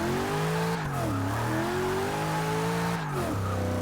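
Tires spin and squeal on a car in the racing game Forza 6 while the engine revs hard. The high wavering squeal holds steady and loud with no break, and dips in pitch twice.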